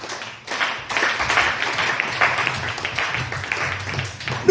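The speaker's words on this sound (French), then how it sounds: "On acclame le Seigneur." Congregation in a French-speaking church applauding the Lord, steady crowd clapping with a lively, even texture that carries on throughout, with a few voices mixed in.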